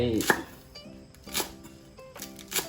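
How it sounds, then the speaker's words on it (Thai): A knife chops lemongrass on a cutting board for a Thai home-style chicken soup, giving a few sharp, separate strikes spread over a couple of seconds amid faint kitchen background noise. "หั่นปับปับอย่างนี้นะครับตะไคร้"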